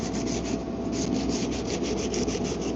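Hand sanding of car body filler with 80-grit sandpaper during DIY bodywork on an Infiniti Q50 twin turbo, a close, loud, rhythmic scratchy rubbing in quick back-and-forth strokes.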